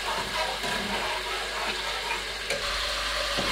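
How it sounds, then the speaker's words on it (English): Yogurt being stirred slowly into masala in a pan over a very low flame for lamb nihari, a continuous loud hiss and bubbling sizzle with soft scraping throughout. "turn the flame very low, like very sim, and then mix it slowly with the other masala."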